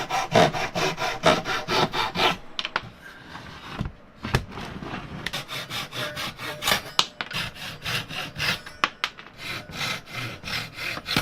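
A handsaw cuts through wood for a plywood bending fixture, with rhythmic back-and-forth rasping strokes in close bursts, broken by short pauses and a few knocks.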